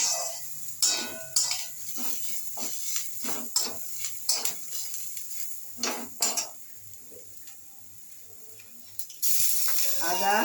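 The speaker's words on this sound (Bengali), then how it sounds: "এবারে রসুন আর আদা বাটাটা দেবো।" A metal spoon scrapes and clanks against a pan as ginger-garlic paste is stirred into onions frying for a taro curry. The hits come in an irregular run, then give way to a soft sizzle, with the loudest frying near the end.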